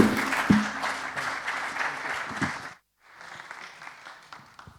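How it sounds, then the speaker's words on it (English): Conference audience at a gambling regulation session in Oslo breaks into applause of moderate volume, fading off before a brief pause and then a quieter second round of clapping. "Give him a big applause."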